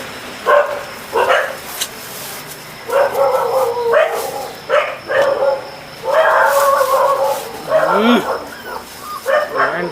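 Several dogs bark in repeated bursts near an outdoor home, with yips and whimpers mixed in, while a person shouts at them to come inside.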